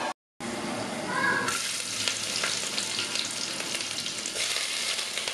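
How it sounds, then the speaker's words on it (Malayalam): Chopped garlic and ginger hit hot oil after a brief silence, bursting into a loud, steady sizzle that holds throughout, for a Kerala-style fish curry. "വെളുത്തുള്ളി, ഇഞ്ചി ഇട്ട് കൊടുത്തിട്ടുണ്ട്."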